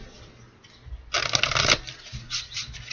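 Tarot cards shuffled briefly and close by, a dense papery riffle lasting about half a second, surrounded by softer card handling in a quiet room.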